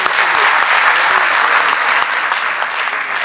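An award ceremony audience applauds a nominee, dense continuous clapping, loud and close, filling the whole stretch with a faint voice underneath.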